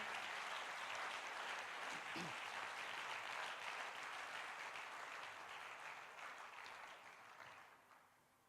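A church congregation applauds in a steady, dense wash of clapping, quiet and roomy, with a brief voice in the middle before the applause gradually fades out.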